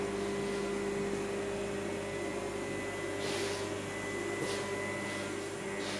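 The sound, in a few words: flywheel spinning on balancing machine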